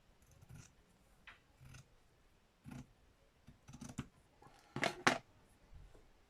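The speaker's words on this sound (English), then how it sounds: "let's get a pair of scissors with a longer blade" Long-bladed scissors snip through net curtain fabric in a handful of quiet, separate cuts, with one brief, sharper snip near the end and no voices.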